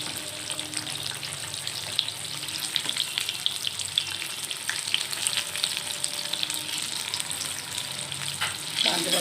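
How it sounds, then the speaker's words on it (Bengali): Sliced pointed gourd (potol) sizzles steadily in hot oil in a frying pan, with occasional stirring scrapes over a continuous close frying hiss. "পটলটা অলরেডি আমার লাল লাল করে ভাজা হয়ে এসেছে"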